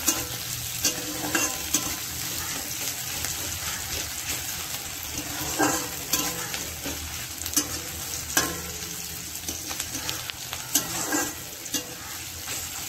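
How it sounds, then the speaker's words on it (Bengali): Onion frying in a pan, a steady close sizzle broken by repeated scraping stirs of a spatula every second or two, with no talk. "দেখতে পাচ্ছেন পেঁয়াজটা ভাজা ভাজা হচ্ছে।"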